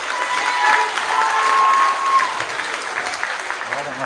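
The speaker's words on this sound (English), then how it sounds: "Can we please give them a round of applause?" A school senior prize-giving audience claps steadily for an award winner, a broad continuous wash of applause with faint crowd murmur and a brief voice near the start.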